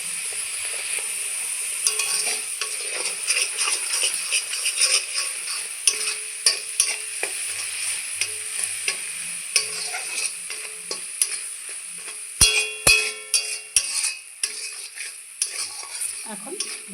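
Radish greens paste with salt and turmeric fries in a pan, a continuous sizzle broken by repeated sharp scraping and stirring clicks from a utensil, close and fairly loud.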